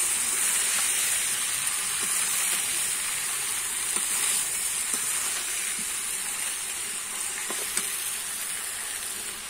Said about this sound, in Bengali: এবারে আমি ফেটানো টক দইটা দিয়ে দেবো। দিয়ে আমি আবার একটু কষিয়ে নেব।